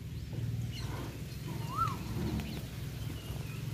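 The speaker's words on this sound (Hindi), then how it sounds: "जो आपको सुनाई दे रही होगी, उन पक्षियों का आवाज़" In a Gir village, a bird gives a single brief rising-and-falling call midway, with a few faint chirps around it. All of it sits quietly over a low, steady background hum.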